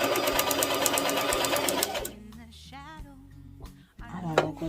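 A sewing machine backstitches ribbon trim onto a multicolor tutu skirt, running steadily and loudly for about two seconds before stopping, followed by quieter handling noises and a voice speaking.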